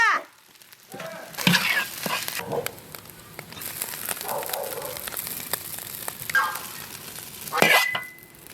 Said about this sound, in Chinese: 炒一炒出锅